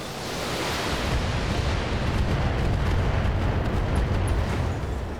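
A turret is blown apart by mech weapons fire in BattleTech, a broad rumbling blast of explosive noise that swells and holds for several seconds.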